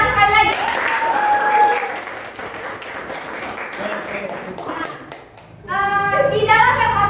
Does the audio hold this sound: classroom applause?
yes